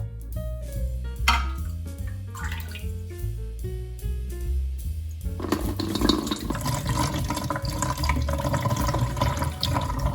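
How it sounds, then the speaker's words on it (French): Liquid from a Lidl home-brewing kit is poured into a beer fermenter, a steady splashing, gurgling pour that follows a stretch of music. "je vais procéder directement au transvasement dans le fermenteur"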